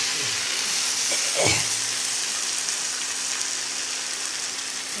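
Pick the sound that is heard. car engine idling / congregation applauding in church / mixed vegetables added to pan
mixed vegetables added to pan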